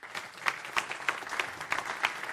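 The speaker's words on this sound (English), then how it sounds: "Give them a round of applause." Applause from a council meeting audience, a steady wash of many hands clapping with a few sharper individual claps standing out, moderately close and without talk over it.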